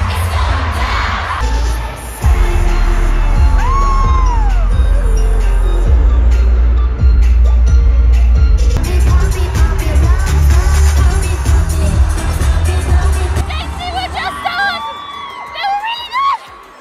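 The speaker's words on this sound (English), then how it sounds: "we got goosebumps at the crowd's fan chant." Crowd at a K-pop concert in Madrid, during a performance, chants and cheers loudly together over booming low music, with scattered shrill screams and whoops rising above the mass of voices.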